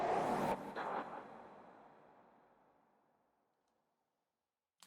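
A whoosh swell built from a reversed vocal ad lib in a music mix, starting as a bright airy burst and then thinning and fading away over a few seconds into near silence.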